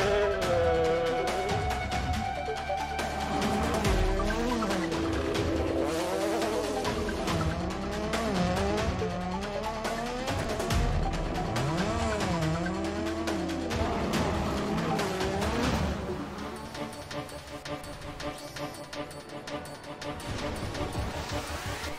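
Rally cars in a racing video game, loud revving engines with repeated swooping tire squeals and skids through corners, sustained and close throughout.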